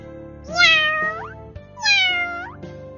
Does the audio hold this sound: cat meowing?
yes